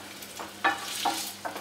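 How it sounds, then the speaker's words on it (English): Chunks of sausage browning in a frying pan, a steady close sizzle with a few brief louder crackles and stirring sounds, alone without talk. "stick them in the frying pan"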